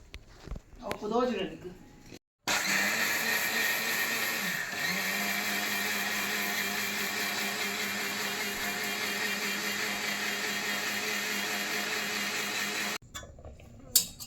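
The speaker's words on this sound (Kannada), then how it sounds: "ಅಕ್ಕಿಯನ್ನು ಮಿಕ್ಸಿ ಜಾರಿಗೆ ಹಾಕ್ಕೊಂಡು ಗ್ರೈಂಡ್ ಮಾಡ್ಕೊಳ್ಳಿ" Mixer grinder grinding soaked rice in a mixie jar, a steady loud motor whine running for about ten seconds after a brief voice, then stopping abruptly.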